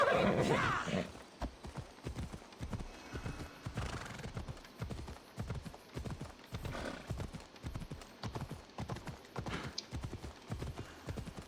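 A horse gallops in Assassin's Creed Odyssey, with steady, quick hoofbeat clip-clops throughout and a whinny near the start, over a low game backdrop and a faint voice.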